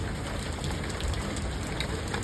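Heavy rain falling on surfaces outdoors, a dense, steady, even hiss of drops that continues without a break.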